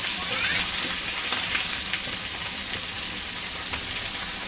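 Chopped onion with green and red chillies dropped into hot oil with cumin and asafoetida, giving a steady, fairly loud sizzle and crackle throughout with no talk.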